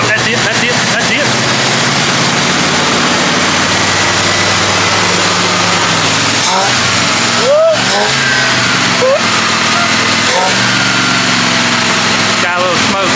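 An old Jeep engine, left sitting for 25 years, runs loudly and continuously at close range with a rough, steady drone. Voices talk over it throughout.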